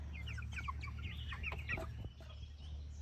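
Meat chickens cluck in a metal chicken run, a close flurry of short, overlapping clucks and calls over a steady low background hum.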